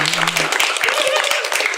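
A small group claps for Ebel in a brief burst of applause, mixed with voices talking during the same moment.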